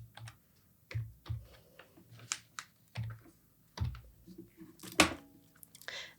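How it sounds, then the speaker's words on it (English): Typing on a computer keyboard while entering parameters for a tutorial: irregular clusters of soft key clicks and taps, close but quiet, with pauses between bursts. "we choose as an example 15 meters and type in the parameters as well"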